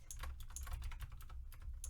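Fast, uneven typing on a computer keyboard: a steady stream of close, crisp key clicks with irregular rhythm and a low background hum, no voices.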